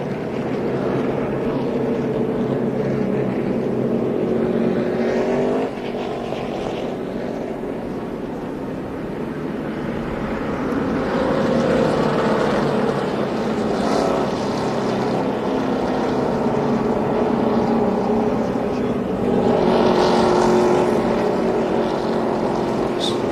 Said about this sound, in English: So they continue to circle under caution here at Michigan.